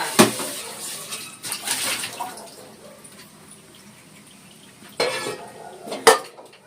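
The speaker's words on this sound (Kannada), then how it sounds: "ತಪ್ಪಲೆನೂ ತೊಳೆದಿಕ್ಬೇಕು" Pots and utensils clatter and clank in bursts while water splashes and runs, with quieter pauses between the scrubbing sounds.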